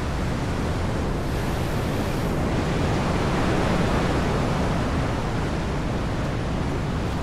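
Strong ocean surf at a beach roars as a steady, broadband wash of crashing waves, loud and continuous with no voices, wind buffeting the microphone slightly.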